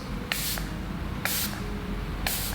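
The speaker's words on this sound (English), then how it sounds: "you put light reflecting spray on NARS Orgasm blushes" Three short bursts of light-reflecting spray hiss onto NARS Orgasm blushes, evenly spaced about a second apart, close and fairly loud over a steady background.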